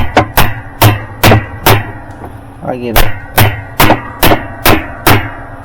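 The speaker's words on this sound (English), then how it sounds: "And then what you'll want to do is tighten it with a hammer." A hammer taps a spanner wrench to tighten the nut on a Maytag washer that won't spin, about a dozen sharp, evenly spaced metallic knocks, with someone briefly speaking between strikes.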